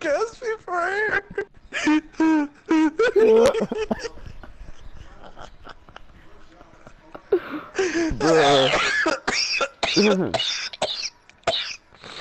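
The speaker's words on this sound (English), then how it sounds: "I coughed so hard, I'm seeing stars." Harsh, repeated coughing fits in two bursts, close and loud, with throat-clearing and giggly, cartoonish vocal sounds mixed among the coughs.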